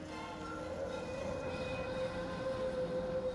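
An electric tram rumbles along a Tallinn street, a steady close rolling roar with a whining motor tone rising slightly as it passes.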